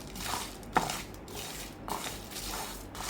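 A spoon stirs and scrapes a roasting spice mix around a pan with soft, repeated sweeping strokes, one sharper knock early on, and a low hum in the background. No voices are present.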